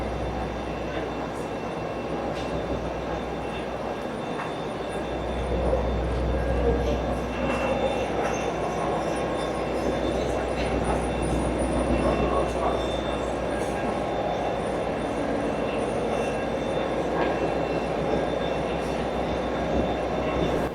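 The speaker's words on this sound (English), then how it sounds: "The diesel locomotive is indeed an heritage locomotive by the name of Conwy Castle, named after a medieval castle in North Wales." At Edinburgh Waverley station, a Class 57 heritage diesel locomotive idles with a deep, constant rumble, while rail-yard clatter and faint station noise sit around it.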